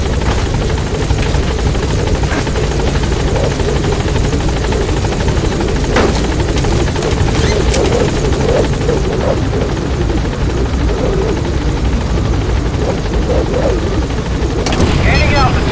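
Helicopter in the video game Metal Gear Solid V: The Phantom Pain, droning with a constant loud rotor thrum for the whole stretch. Voices talk over it, and a few thuds and clanks break through.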